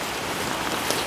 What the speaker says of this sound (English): It is nice when it's raining, especially in the summer.